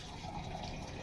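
Water being poured into a drinking glass indoors, a short continuous splashing gush of liquid filling the glass, fairly quiet and heard on its own.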